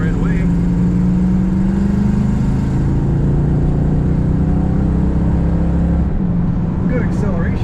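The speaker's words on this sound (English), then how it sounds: "Good acceleration in this Corvette." A 1981 Chevrolet Corvette coupe with an automatic transmission accelerates, its engine note rising steadily in a loud, sustained drone before easing off near the end.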